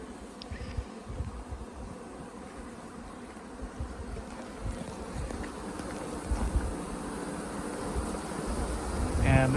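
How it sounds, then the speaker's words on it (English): Honey bees buzz around a hive box from a queenless colony, a dense, continuous, fairly faint hum that swells slightly toward the end. A voice speaks quietly now and then. "Still got a lot of bees in the box"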